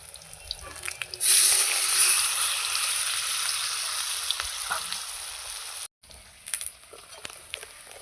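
Pui (Malabar spinach) leaf fritters fry in hot oil, a bright steady sizzle that starts abruptly, holds loud and continuous, then cuts out briefly before a few fainter crackles and clinks return.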